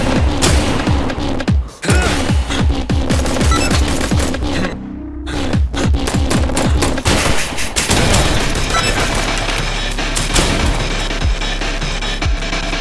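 Shotgun fire in a video game comes as a dense run of booming shots with rapid, repeated blasts and one brief gap, all loud and close against a continuous background rumble.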